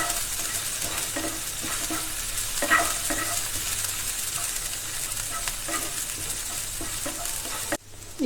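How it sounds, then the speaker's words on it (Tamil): Grated ginger sautés in a hot pan for cauliflower paratha: a steady, close sizzle with light stirring scrapes throughout and no talking. "இப்போ இது எல்லாத்தையும் சேர்த்து நல்லா வதக்கிடலாம்."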